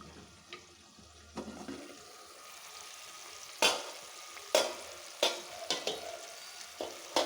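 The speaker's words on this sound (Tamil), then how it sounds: "நல்லா கொதித்து வெந்துக்கிட்டு இருக்குது சூப்பு" Drumstick leaves soup bubbling in a pot just after the lid comes off, a soft steady simmer with faint sizzling and several light clinks and scrapes of utensils.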